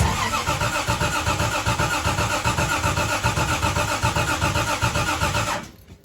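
A 1973 Triumph TR6 with triple carburetors, choke pulled, starts and runs as a loud, close, steady chugging engine that cuts off abruptly near the end.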